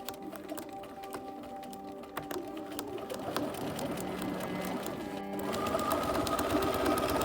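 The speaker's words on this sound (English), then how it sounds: "Sew all the way across the gathers to set it in place." A sewing machine runs steadily across gathered ruffle fabric on a jester-style cloak, a continuous close mechanical whir with rapid needle ticking that grows slightly louder toward the end, no voices.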